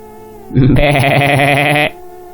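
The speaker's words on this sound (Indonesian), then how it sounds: "Suara hewan ternak riuh terdengar." A single loud, close bleat from a sheep or goat, wavering and held for over a second before cutting off.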